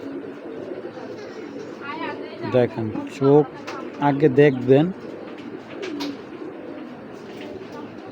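An old-breed male pigeon with rare broken-glass eyes coos in several short, close, throaty bursts while someone talks over it.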